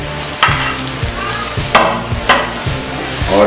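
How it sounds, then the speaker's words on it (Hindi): Boiled basmati rice is stirred into chicken biryani in a pot, loud repeated scrapes and clanks of the spoon over a continuous sizzle, close up, with no voices. "और इसको इस तरह से मिक्स कर लेंगे"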